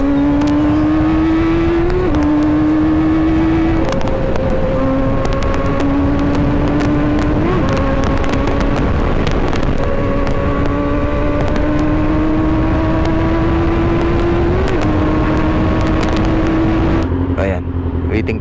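A Honda CB400 Super Four Type R motorcycle engine runs steadily and loudly while it warms up. Its pitch climbs and steps through repeated rev rises, and a voice talks over it.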